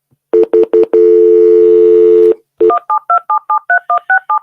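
Telephone keypad dialing tones while a conference phone line is reconnected: three short beeps, a long held tone, then a quick string of about ten crisp dial tones, loud and clean with no voices.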